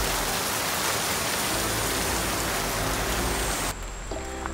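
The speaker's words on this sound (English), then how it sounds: "Here, you get rain." Heavy rain pours steadily in Puerto Viejo, a dense loud hiss of drops close by that cuts off abruptly near the end, leaving faint tones.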